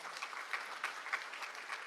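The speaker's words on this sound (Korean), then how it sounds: "감동적인 무대를 선사해 주신 비슬무용단 여러분께 다시 한번 큰 박수 부탁드립니다" Hall audience at a National Assembly Constitution Day ceremony claps for the Biseul dance troupe after its opening performance, brief and fairly faint dense applause.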